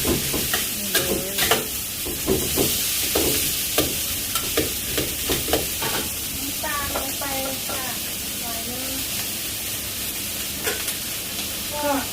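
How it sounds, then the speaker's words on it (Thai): Steady sizzling of spring roll filling stir-frying in a large wok, with repeated scraping and clanking strokes of a spatula stirring, and a voice speaking briefly in the background. "เราผัดไว้เป็นหม้อใหญ่กระทะใหญ่นี้เลยนะคะ"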